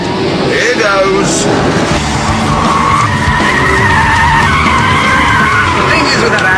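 A Porsche Carrera S with sports suspension on and traction control off is driven hard: loud, continuous engine roar and screeching tire skids fill the whole stretch, close and intense.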